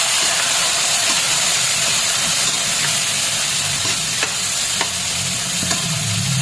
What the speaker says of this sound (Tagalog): Ilagay na natin itong pork.